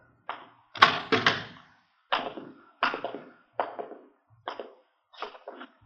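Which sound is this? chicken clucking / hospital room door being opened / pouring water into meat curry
hospital room door being opened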